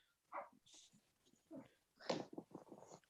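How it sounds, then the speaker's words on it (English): A pet dog close to a microphone during a live online talk show, giving a few short whines and yelps in separate bursts, fairly quiet. "my dog's just attacking me now"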